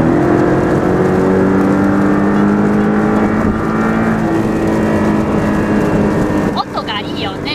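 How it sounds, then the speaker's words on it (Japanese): A Porsche two-seater sports car accelerating on a highway in Sport Plus mode, with a loud, steady engine note and rising harmonic tones that stay strong throughout before shifting slightly near the end. "今スポーツプラスで走っててちょっとノーマルに戻すけど、音がめちゃくちゃいいね。"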